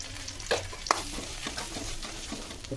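Onions, garlic and green chilies frying and being stirred in hot oil for a leafy-greens dish, a steady low sizzle broken by a few sharp scraping stirs, close and alone.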